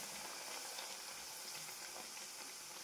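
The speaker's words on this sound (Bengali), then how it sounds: "তেল গরম হয়ে গেছে, এবার পুরিগুলো ফটাফট ভেজে নেব।" Spinach-stuffed kochuri puris deep-frying in hot oil give a steady, close, even sizzle and crackle that runs throughout, with no voices.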